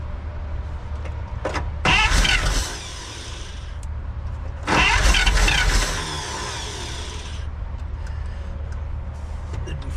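A 1948 Pontiac straight eight engine cranks in two loud bursts of a couple of seconds each, separated by quieter idle-like background, without catching and starting.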